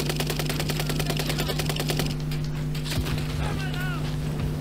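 Rapid automatic gunfire in the Warzone shooter game, a fast continuous rattle of shots for about two seconds, loud and close over a steady electronic hum and game noise, followed by scattered impacts.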